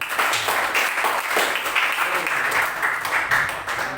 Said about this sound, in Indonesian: Tepuk tangan dulu jawabannya.